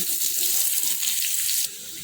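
Chopped onion hits hot oil already tempered with dried red chillies, bay leaf, cumin, garam masala and cardamom for a prawn malai curry, giving a loud, steady close-up sizzle that eases slightly near the end.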